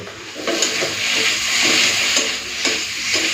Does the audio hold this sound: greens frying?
yes